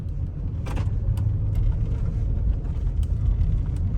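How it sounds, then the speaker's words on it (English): Range Rover Sport HSE with an overheating engine driving through a residential neighborhood, heard from inside as a steady low engine and road rumble with faint rattles, no talking. "So I'm going to just go ahead and give it a drive around my neighborhood"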